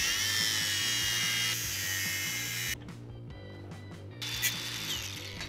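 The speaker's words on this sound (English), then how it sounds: "Now cut the pipe where it's marked all around." A 48mm pipe is cut all the way around a chalk-marked line with a power tool, giving a steady, loud motor whine that shifts in tone partway through and continues without any talking.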